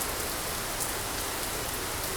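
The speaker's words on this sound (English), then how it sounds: "you can tell it's like really raining hard" Heavy rain drumming steadily on airliner windshields in the X-Plane 12 flight simulator, a dense, constant hiss with no talking.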